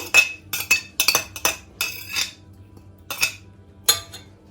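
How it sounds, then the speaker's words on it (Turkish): Grated apple is emptied into a pan, coming through as a run of about eight sharp metallic clinks and scrapes spaced irregularly, close and clear, with no talking. "Rendelemiş olduğum elmayı Uygun bir tavaya boşaltıyorum."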